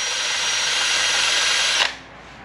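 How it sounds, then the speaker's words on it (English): Power drill boring a vent hole in a car thermostat: a steady, close, high motor whine for nearly two seconds, then a quick bite as it breaks through and spins down, with no talk. "I just drilled a hole in the top so that it would let any air bubbles through"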